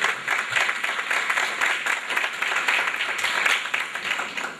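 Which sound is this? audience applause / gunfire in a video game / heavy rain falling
audience applause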